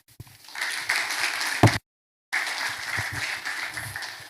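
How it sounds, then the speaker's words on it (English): Applause after a speech at a computing and technology conference, a room full of clapping that swells, cuts off for a brief silent gap, then resumes steadily. "That was a round of applause for the speech."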